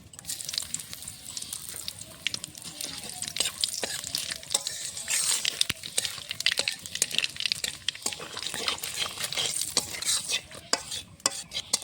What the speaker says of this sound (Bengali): আমি মাছের তেলেই ফোড়ন দিয়ে দেবো, একটা তেজপাতা, হাফ হাফ করে শুকনো লঙ্কা আর কালো জিরে